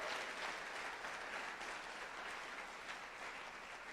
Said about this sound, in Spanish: Denle un fuerte aplauso al Señor el día de hoy.